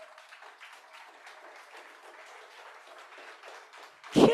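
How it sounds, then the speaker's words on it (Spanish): Church congregation claps together in a moderate, even patter, ending with a short, loud burst close by. "Dale un fuerte aplauso a Dios."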